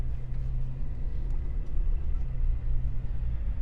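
A RAM 1500 TRX pickup with a 702 hp Hellcat engine rumbles steadily while driving, a deep low drone heard from inside the cab with no talking.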